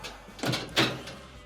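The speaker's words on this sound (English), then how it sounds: "We'll go ahead and close the door." A clothes dryer door is pushed shut, giving two quick knocks close up, a softer contact followed by a firmer latching thud, with no talking.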